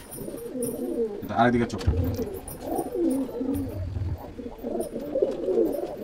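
Pigeons in a pigeon loft giving repeated soft, throaty coos close by, overlapping one another, while someone talks over them.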